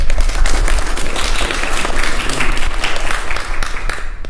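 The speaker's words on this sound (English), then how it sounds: "So our assistant director, Kathy Byrne, round of applause for her as well." An audience gives a round of applause for a theatre assistant director at a community theatre event, a dense, loud wash of clapping that holds steady from start to finish.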